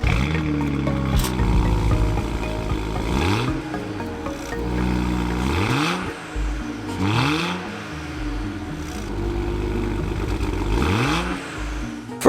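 A BMW 135i E82 with a 300-horsepower twin-turbo straight-six revs repeatedly, rising and falling pitch sweeps in several bursts, close and loud with a slightly thin, droning tone.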